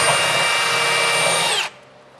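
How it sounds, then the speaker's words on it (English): A power drill bores a pilot hole with a 1/4 inch bit while a B&W Companion fifth wheel hitch goes into a 2015 Ford F-series truck. A loud, steady whine runs unbroken for under two seconds, then cuts off abruptly. "we can drill up using a 1/4 inch bit and use that as our pilot"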